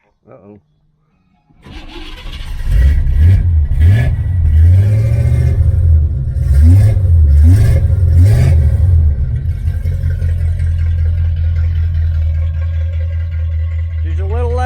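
A 1977 Chevrolet Malibu Classic V8 with new headers, an X-pipe race exhaust, single-chamber mufflers and an aluminum intake fires up and revs several times, rising and falling, then settles into a loud, deep, steady idle close by.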